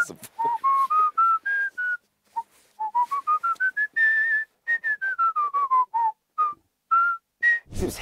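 Solo human whistling performance by a world whistling champion, a clear melodic line of rising and falling sustained notes in phrased bursts with short pauses, close and loud, with no talking.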